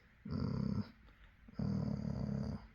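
Two deep, rattling snores close by, each a long buzzing inhale separated by a brief quiet pause.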